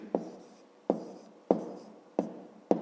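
A pen writes numbers by hand for a fifth-grade maths exercise, making five short, evenly spaced scratching strokes close up, with quiet pauses between them and no talking.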